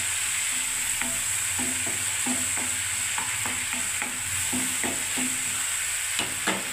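Ginger paste frying in a pan with a steady sizzle, while a utensil stirs and scrapes in repeated rhythmic strokes throughout; close and clear, with no talking.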